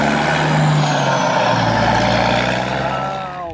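A cartoon water tanker truck rumbles loudly and close with a low engine drone and a brief hiss like an air brake, fading slightly at the end.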